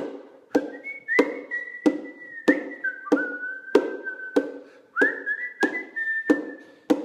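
Someone whistles a simple sustained melody over a steady beat of sharp taps, each note held across several hits, close and clear with no talking.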